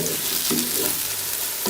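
Vegetables fry steadily in a hot pan for macaroni, a continuous loud sizzle with a few stirring scrapes on top, close up and with no talking.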